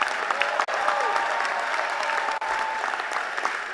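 Steady audience applause and hand clapping fills a university presidential installation ceremony at Bowie State, a dense continuous wash of claps with two brief dips, moderately loud throughout.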